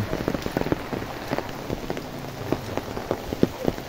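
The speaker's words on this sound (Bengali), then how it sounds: "এত পরিমাণ বৃষ্টি।" Heavy rain pours down steadily, a dense hiss of water with scattered sharper drops and splashes close by, no voices.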